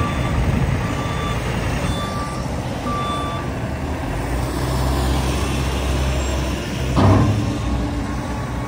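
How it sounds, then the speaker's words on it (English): A Mack CL700 tri-axle dump truck hauling manure rumbles close by, its engine droning low and steady while repeated reversing beeps sound at a regular pace, with a brief louder surge near the end. "The other dump truck here."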